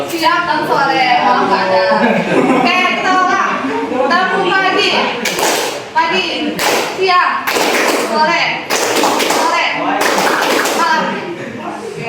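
A classroom of students claps the 'tepuk pagi' clap pattern in a school microteaching lesson, sharp rhythmic bursts of hand claps repeating under continuous loud chatter and voices.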